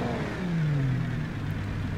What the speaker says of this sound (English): Let's start it up, listen to its engine tone